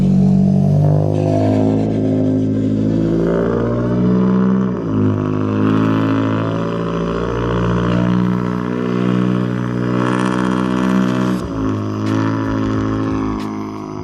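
A lowered Nissan Altima and other cars pull away one after another, their engines loud and close as they rev and rumble with shifting pitch, then fade a little toward the end.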